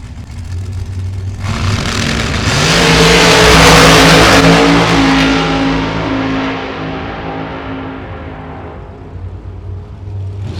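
Competition Eliminator drag race cars roar down the strip at Gainesville, a loud engine blast building to a peak and then fading as the cars pull away, with no talk over it.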